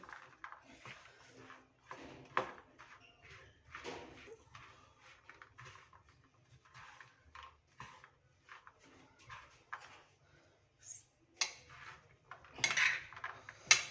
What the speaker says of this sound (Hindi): ये देखिए अच्छे से मिक्स करें।